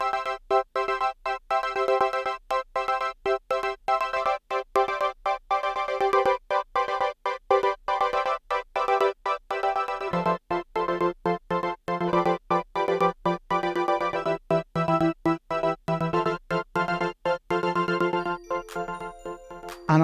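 A 1980s synth-pop gated pad, sustained chords chopped into a fast rhythmic on-off stutter, the harmony shifting partway through with a deeper tone entering, loud and continuous with no talking.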